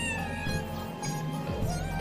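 A cat meows in a nursery-rhyme alphabet song, one drawn-out harmonic meow close and clear over a steady musical backing.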